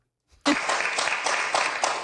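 An audience claps in steady applause at a political talk show, starting abruptly after a brief silence and continuing as a dense, even patter of many hands, fairly close and loud, with no voices over it.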